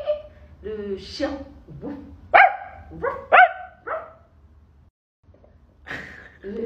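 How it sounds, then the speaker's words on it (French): A dog barks a few sharp times close by, with voices talking and murmuring around the barks. "Le chien."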